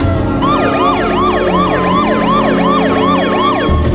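Police car sirens wail in an audio drama sound effect, loud and close, with rapid rising-and-falling whoops repeating in a fast regular cycle over an engine rumble before cutting off near the end.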